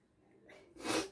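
A single sneeze from a person: a quiet intake of breath builds into a short, sharp burst, then fades, with no talking.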